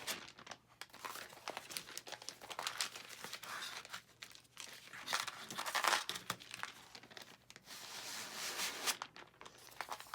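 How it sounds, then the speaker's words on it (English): Sheets of freezer paper from a roll crinkle and rustle steadily as they slide out under light hand pressure, a soft, continuous papery scraping with small crackles, fairly quiet and close. "I'm just going to put a little bit of pressure on there, and I'm going to slide this out."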